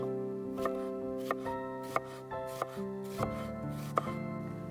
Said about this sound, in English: Mince 5 grams of spring onion